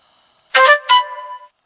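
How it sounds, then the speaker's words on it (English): A phone left off silent chimes a short notification, two quick bright tonal blips with a ringing tail in an otherwise quiet room. "Sorry about that noise. My phone was not on silent."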